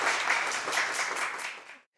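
An audience claps warmly to welcome poet Geffrey Davis at a poetry reading, a dense burst of applause that holds steady and then dies away quickly into silence near the end.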